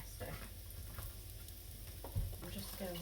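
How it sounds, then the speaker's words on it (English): Sausages sizzle steadily as they brown in a frying pan in a home kitchen, a soft continuous crackle with a few light clinks of stirring, fairly quiet and close. "keep browning the sausages"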